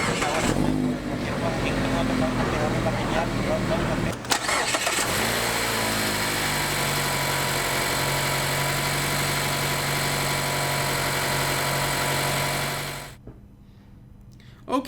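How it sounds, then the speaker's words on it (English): A 2017 Mazda MX-5 Miata RF cranks briefly and fires up, then settles into a steady mid-pitched idle for several seconds before it cuts off. The engine is heard alone at close range. "So let's start up the engine here and let you hear that for a moment."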